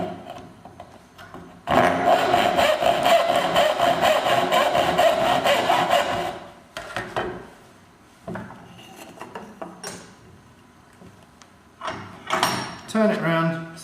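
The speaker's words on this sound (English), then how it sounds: "Just start by drawing the saw back, a couple of strokes, then using the whole length of the saw" Hand saw cutting reclaimed softwood, a loud sustained stretch of full-length strokes early on, then shorter, lighter strokes and scraping as the cut continues, with a voice talking over parts of it.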